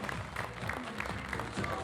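A studio audience on a Pakistani cricket TV show claps in a warm burst of applause that rises and falls through the whole moment, with a voice faintly underneath.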